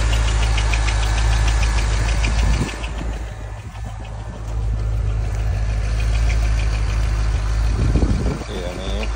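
Engine of a Chevrolet Corvette Z06 barn find with a stuck lifter, running loud and close with a steady rapid ticking over the idle, dipping briefly midway; a voice talks over it.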